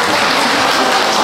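Applause from a concert audience at a Chuseok holiday music event in a restaurant, steady, dense and loud throughout this short stretch, with no voices over it.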